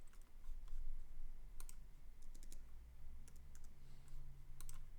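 Code is typed on a computer keyboard in faint, scattered bursts of clicking keys over a low steady background hum, with no voice.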